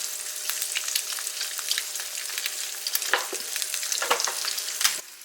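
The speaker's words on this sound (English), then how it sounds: "while I'm waiting on my egg to finish cooking" An egg seasoned with salt and pepper fries in a pan, giving a steady crackling sizzle with occasional louder spits and pops, close and continuous, with no talking.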